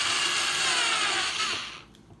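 An electric drill runs close by with a loud, steady whirring buzz for nearly two seconds, then winds down and stops.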